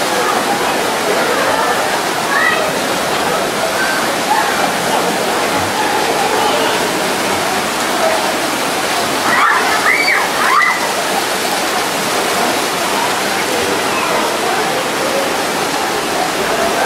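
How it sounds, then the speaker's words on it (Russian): Water splashes and rushes continuously at a park water feature, with a slightly louder surge partway through and faint voices in the background. "Сейчас волна будет."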